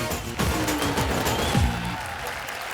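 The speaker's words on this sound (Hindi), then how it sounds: "मेरे लिए भी तालियां है। बजा दो।" A studio audience at the Dus Ka Dum game show claps in a dense, fairly loud burst, with brief tonal sweeps mixed in before the applause thins out.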